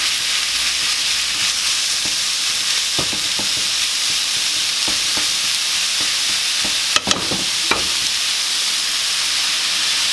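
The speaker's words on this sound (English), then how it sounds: "In with our 14 ounces of ground beef. Start to chop that up," Fourteen ounces of ground beef fry and hiss in a pan for Australian meat pie filling, with scattered scraping and tapping as a utensil chops and breaks it apart; a louder clatter comes near the end.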